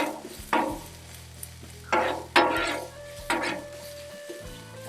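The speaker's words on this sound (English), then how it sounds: "Now we're going to put our garlic in. And we're going to keep that moving." Garlic sizzles on a Blackstone griddle as it is stirred, with several distinct scraping strokes of a metal utensil across the flat top over a steady low frying hiss.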